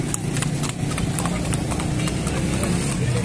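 Horse hooves clip-clopping at a horse market in Lahore, rapid sharp clops repeating through a busy outdoor scene with a low engine hum and background chatter.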